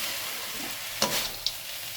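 A spoon stirs beet fry with roasted peanuts and chopped coriander in a pan: a soft low sizzle runs throughout, broken by two short scraping strokes close by, with no talking.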